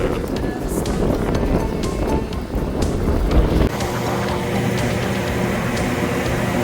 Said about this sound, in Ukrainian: О, а вітер просто страшний